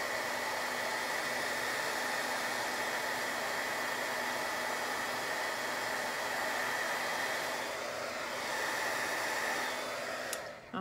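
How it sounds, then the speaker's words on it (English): A heat embossing tool blows hot air steadily to melt embossing powder in a paper craft technique, a continuous loud whooshing hiss like a hair dryer, nearly unbroken before cutting off at the very end. "That's the magic of embossing powder and heat embossing"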